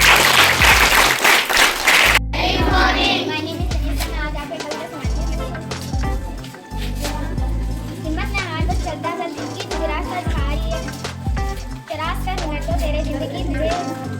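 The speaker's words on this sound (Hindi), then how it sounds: "छात्र मोहित के लिए एक बार फिर से तालियां" Students and parents at a school's National Unity Day gathering clap loudly for a student named Mohit, a burst of dense applause that stops after about two seconds, giving way to music and talk.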